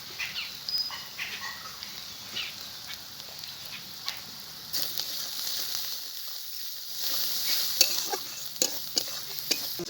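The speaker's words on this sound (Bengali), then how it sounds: "দেখুন ভাজা হয়ে গেছে।" Spices with salt and turmeric frying and being stirred in a pan for an arum (kochu) dish: a soft, continuous sizzle with repeated scraping taps of a spatula, swelling louder toward the end, with no talk.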